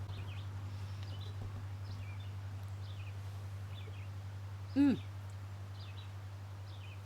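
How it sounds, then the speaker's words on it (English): Birds chirp faintly outdoors beside a back porch, a scatter of short repeated calls over a low steady hum, and a person makes a brief murmur midway. "I can hear all the birds singing."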